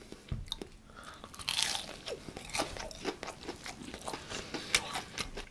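Crispy Burger King Basakking fried chicken is bitten with a sharp crunch and then chewed, giving close, crackly mouth sounds in an uneven rhythm, quiet and without talk.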